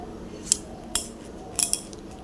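Young jackfruit tipped into a pan of spiced oil for a vegetarian jackfruit-and-potato curry, with a few sharp clinks of a metal spoon against the pan spaced across a quiet, steady background.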